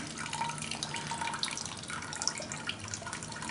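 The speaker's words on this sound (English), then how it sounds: "hang the bag over the pot for about a minute or until the liquid stops running" Liquid drips and trickles from a hanging brewing bag into a pot below, a faint, steady patter of small splashes with no talking.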